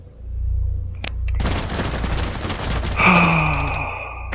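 Sustained automatic gunfire in Rainbow Six Siege, a fast, loud, rattling stream of shots after a couple of single cracks, with a ringing whine over the tail of the burst.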